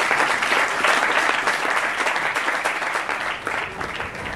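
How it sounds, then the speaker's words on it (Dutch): Audience in a Rotterdam debate hall gives the guests a warm round of applause, dense loud clapping sustained evenly, fading slightly near the end. "Mag een hartelijk applaus voor onze gasten"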